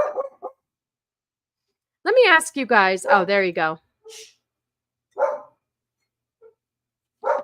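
A pet dog barks in a quick cluster of sharp, yappy barks at close range, with scattered single yips after. Someone talks briefly before and after the barking.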